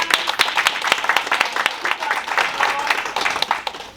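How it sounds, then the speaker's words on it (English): Audience applause after a question session at a sip-and-chat event, with sharp individual claps standing out from a moderate crowd clapping for about four seconds. "So give yourself a round of applause."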